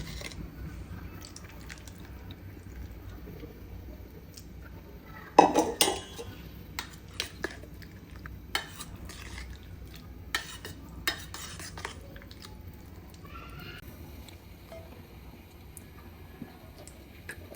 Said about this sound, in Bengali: আমি এখন এই ভেন্ডির মধ্যে মিক্স করে নিব।